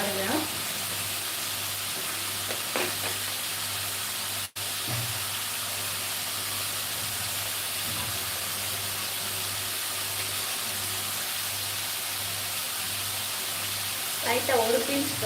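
Tomatoes sautéing in a hot pan with a pinch of salt and turmeric for a drumstick masala, a steady close sizzle with occasional stirring scrapes running throughout, one brief dropout partway through.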